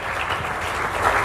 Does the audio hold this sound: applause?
yes